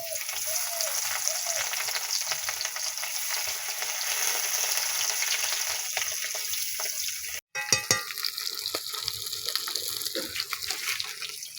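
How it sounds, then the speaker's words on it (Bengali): Steady, close hiss and crackle of fish frying in hot oil, continuous throughout with a brief cut partway and a few clinks. "তেল দিলাম মাছ দিয়ে দিলাম"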